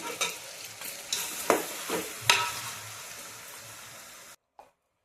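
Country chicken is stirred through ginger garlic paste and turmeric in a village-style pan, with several close, wet scraping strokes over a soft sizzle before the sound cuts off abruptly, leaving one last brief scrape.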